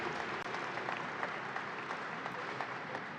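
Faint, distant applause from a crowd at a New York State Fair event, a steady wash of clapping lasting a few seconds.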